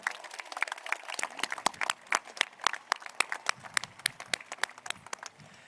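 A high school graduation audience claps steadily, with distinct, closely spaced hand claps from many people, moderately loud and sustained throughout.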